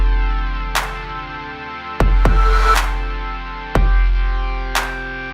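Electronic kick drum layered with a sine-wave sub bass, pitch modulation switched off, hitting four times with a flat, steady low boom and a decaying tail, playing alone over a faint synth backdrop.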